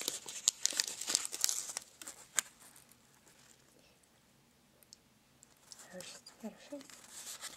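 A paper-wrapped chocolate, sealed shut beyond its folded wrapper, is opened up close: crisp crinkling and tearing bursts with sharp clicks, a quiet gap in the middle, then more rustling paper sounds alongside soft whispered speech.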